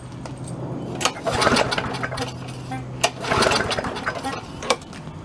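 A Yard-Man push lawn mower engine is being started, with repeated pull-cord bursts around one, three and a half and nearly five seconds, each sputtering briefly without settling into a steady run, over a constant low hum.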